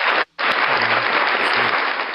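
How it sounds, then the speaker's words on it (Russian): Dense applause from an audience fills the whole stretch, broken by a brief silent gap near the start, then continuing loud and steady. "аплодисменты."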